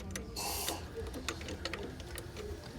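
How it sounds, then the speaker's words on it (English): Wrench and Allen wrench loosening the bolts on a carriage bracket during a Butler quilting robot install: a close run of small metallic ratcheting clicks and taps, with a brief louder rattle near the start. "You'll have to use a wrench on the bottom side"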